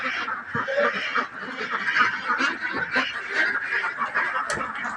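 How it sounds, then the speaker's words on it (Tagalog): Ducks on a farm squawk and quack in a dense, continuous chorus at feeding time, fairly close and moderately loud, with faint background activity. "Diretso na po tayo sa itik. Papakain na natin."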